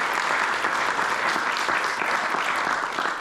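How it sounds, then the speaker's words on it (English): An audience at a fire safety workshop and expo claps loudly and evenly, a dense, sustained round of applause with no break. "So a big round of applause for our community fire safe council."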